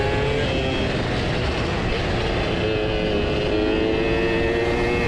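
A Suzuki Satria two-stroke motorcycle racing uphill past a Ninja, its engine a loud, steady, high-pitched buzzing drone that holds close throughout with no talking.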